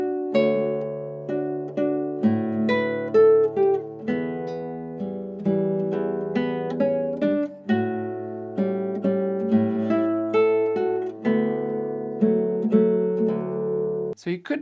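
An acoustic guitar plays Sons de Carrilhões by João Pernambuco, with a D bass under the chord shapes. Picked notes ring clearly and close in a steady, continuous flowing passage for about fifteen seconds, ending with a brief noise.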